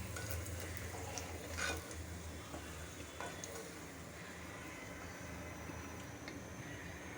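Potato chips fry in oil with steady sizzling and crackling throughout, a faint low rumble underneath and a few soft clinks; no talking.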